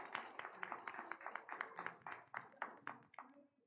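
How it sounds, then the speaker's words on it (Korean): A small audience applauds during a Sunday communion service in a church, a quiet, brisk patter of clapping hands heard from a distance for a few seconds. "큰 박수 부탁드리겠습니다"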